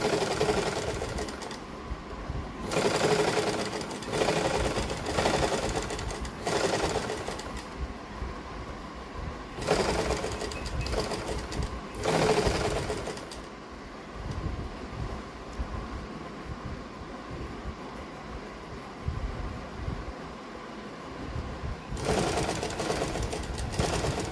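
A sewing machine stitches piping onto fabric in repeated bursts of rapid mechanical whirring, each run lasting a second or two, with a longer continuous stretch near the end, over a faint background hum.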